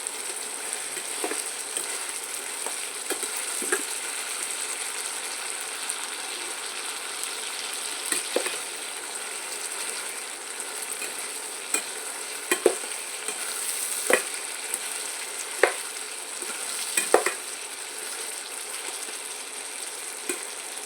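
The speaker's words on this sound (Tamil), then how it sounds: "நல்லா வதங்கிடுச்சு தக்காளி வெங்காயம்." Tomatoes and onions sautéing in a pan with cinnamon for a jackfruit curry, a continuous soft sizzle broken by repeated sharp scraping stirs of a spatula, no voices.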